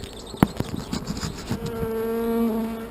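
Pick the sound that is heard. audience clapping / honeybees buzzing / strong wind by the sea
honeybees buzzing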